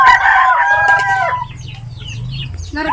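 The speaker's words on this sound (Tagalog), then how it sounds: "Mag-away ang chicken." A rooster crows loudly at close range, then chickens squabble and cluck in a rural yard, with a low rumble underneath.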